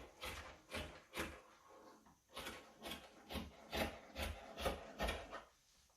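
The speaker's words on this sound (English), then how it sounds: "So I will cut the neckline now." Scissors snip through dress fabric while shaping a neckline, a series of close, crisp rasping cuts in an irregular rhythm with short pauses between strokes, alone and fairly faint.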